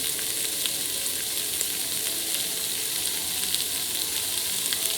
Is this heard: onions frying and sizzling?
yes